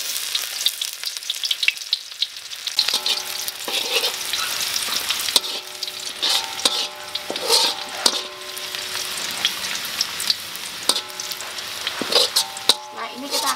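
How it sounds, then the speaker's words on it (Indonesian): Shallots and garlic sautéed in hot oil for a chicken soup with coconut milk, a continuous crackling sizzle with stirring scrapes and spatula clinks, while music plays in the background. "kita akan menumis bawang merah dan bawang putih"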